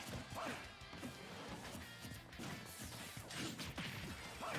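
An up smash lands in a Super Smash Bros. tournament match between Cloud and Pokémon Trainer and ROB, a sharp crash-like hit among busy game effects and crowd noise.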